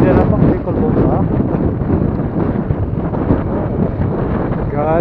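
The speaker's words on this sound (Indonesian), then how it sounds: "ini ada angin sekarang guys" Strong wind buffets the microphone on a motorbike ride up to Genting Highlands, a loud, steady roar filling the whole stretch with a voice faintly mixed in.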